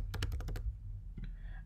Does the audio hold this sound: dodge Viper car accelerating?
no